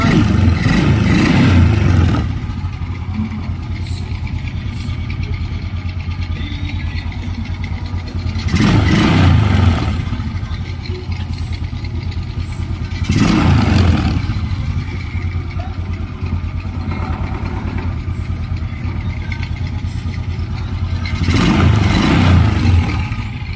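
Honda Wave 125i motorcycle engine idling steadily nearby, broken by four sharp throttle blips that rev it up and fall back, with no talk.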